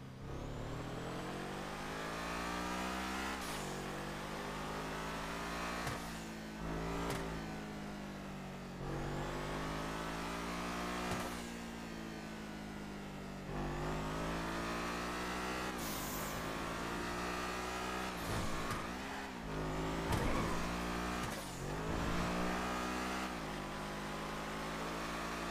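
A video game car's engine revs and drones steadily while driving, with repeated gear-shift dips and rises in pitch, sustained and fairly faint throughout.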